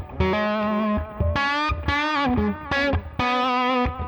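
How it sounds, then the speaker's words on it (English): A loud, heavily distorted electric guitar plays sustained, bending lead notes in short phrases with brief gaps, thick and saturated throughout. "I think it's time to take a guitar solo, honestly. Turn the chorus off, crank the distortion a little bit"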